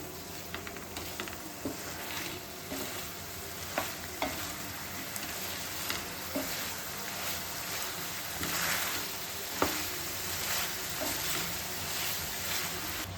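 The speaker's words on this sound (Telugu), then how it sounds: "ఒకసారి మళ్ళీ కలుపుకోవాలండి దీన్ని పచ్చివాసన పోయే వరకు" A prawn fry sizzles in a pan while a utensil stirs it, giving irregular scraping clicks over a continuous frying hiss, close and moderately loud with no talk.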